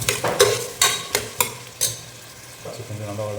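Ginger garlic paste sautéing in a pan: a run of sharp, evenly spaced utensil knocks against the pan, followed by a soft, low sizzle.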